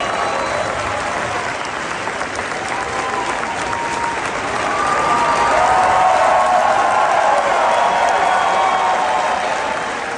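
A crowd at an Elon Musk rally applauds continuously, dense clapping that swells louder midway and holds, with faint cheering mixed in.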